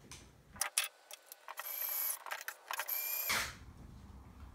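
A small power driver tightens M3 screws into a 3D printer Y axis bracket, with short bursts of high whirring between clicks and pauses, close and fairly quiet.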